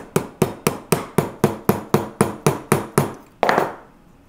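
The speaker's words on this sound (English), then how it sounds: "a softer hammer so I can go directly on top" A soft hammer taps a tube rivet on an enamel pendant in about twelve quick, even, close blows, ending in one heavier, longer-ringing strike.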